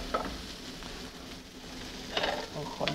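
Mushrooms and bacon sauté in a hot pan, tossed into the air, giving a continuous close frying crackle with bursts of louder tossing and stirring clatter near the end.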